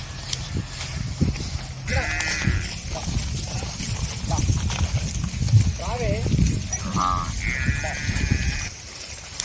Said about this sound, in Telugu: ఒక దూడ అక్కడ చివరికి ఉంది అది నా బ్యాచ్ మొత్తం ఎడిపోయిందని చెప్పేసి భయపడుతూ అరుస్తుంది